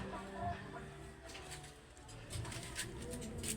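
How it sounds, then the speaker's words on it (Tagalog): African birds, pigeon- or dove-like, cooing softly in low, repeated calls close by, with a faint cluck among them and someone talking quietly in between. "Yan mga African birds ko."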